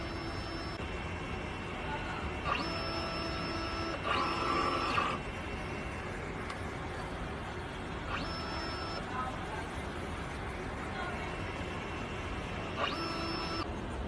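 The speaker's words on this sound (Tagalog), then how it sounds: "Ganito po ang tamang pag-head clean." DTF printer running a print head cleaning cycle: a continuous mechanical hum broken by several short whirring pump and carriage bursts at irregular intervals, close and moderately quiet.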